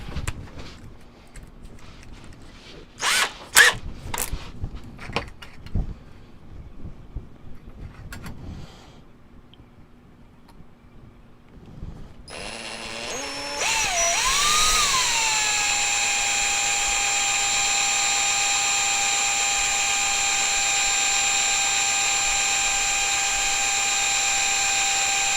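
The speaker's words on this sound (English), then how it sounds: "Some of these drill really easy, some of them drill a little bit harder." A power drill spins up and runs steadily, boring into ceramic pieces for a windchime, after a stretch of clattering and handling noises; the loud high whine holds to the end.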